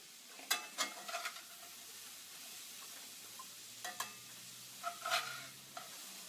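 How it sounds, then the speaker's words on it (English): Chicken, potatoes and asparagus are stirred in a skillet, with scraping utensil strokes landing in scattered bursts over a soft, steady sizzle of frying. "Give it a good stir."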